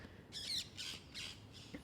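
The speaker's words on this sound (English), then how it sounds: "Now we got the parrots talking." Parrots squawk in the background in several short, raspy bursts spread across the moment, faint and fairly distant with no talking over them.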